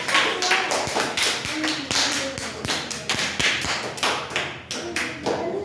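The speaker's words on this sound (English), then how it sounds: "claps for Kavya" Classroom clapping during an English grammar lesson, a run of sharp close claps in an uneven rhythm, each crisp and distinct, continuing for several seconds at moderate loudness.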